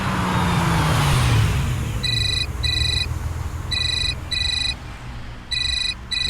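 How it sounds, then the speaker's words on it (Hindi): An electronic phone ringtone chirps in repeated bursts, pairs of short rings separated by pauses, over steady street traffic rumble near a jeweller's shop, with a vehicle passing early on. "आप चलिए, मैं फोन रिसीव करके आता हूँ।"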